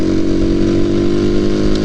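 Honda Grom clone motorcycle engine revving steadily while being ridden in cold weather, a loud continuous buzzing drone close by, with no voices.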